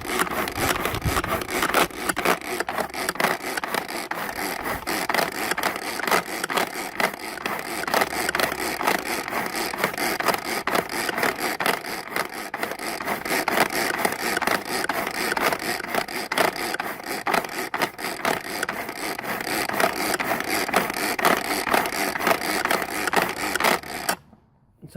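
Pendulous sedge seed heads churned by spinning blades in a pulsed machine, giving a steady, close whirring and grinding that runs unbroken for about 24 seconds before cutting off abruptly.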